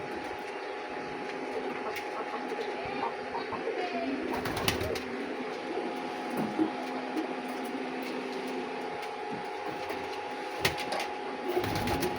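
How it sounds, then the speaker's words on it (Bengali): A pigeon mother feeds her chick nearby, with pigeon sounds over a steady background hum and scattered faint clicks and rustles throughout. "আর ওই উপরে একটা বাচ্চা যেটা খাওয়াচ্ছে, ওর মা খাওয়াচ্ছে পায়রা।"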